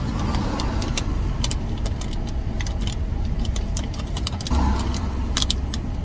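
A car sits in road traffic in the Philippines, with a constant loud rumble of engines and road noise from inside the vehicle and scattered light clicks and rattles on top.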